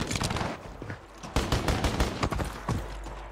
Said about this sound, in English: he's being shot from the left